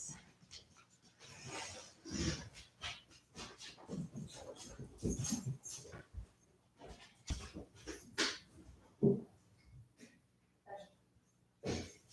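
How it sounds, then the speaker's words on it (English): An English Shepherd dog whimpering and whining in short, irregular bursts mixed with soft snorts and breaths, close by and fairly quiet, with no talking. "he's our dog. He's an English Shepherd"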